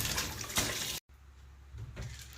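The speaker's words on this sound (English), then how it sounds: "We're going to rinse them back off like this and some running water." Tap water runs and splashes over raw chicken feet being rinsed in a kitchen sink, a close, steady gush that cuts out abruptly for a moment and then resumes more softly.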